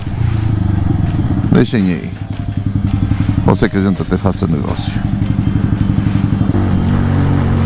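A motorcycle engine idles with a steady, throbbing rumble that swells briefly in a couple of revs, while someone talks over it close by.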